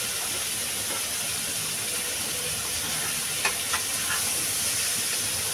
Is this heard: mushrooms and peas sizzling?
yes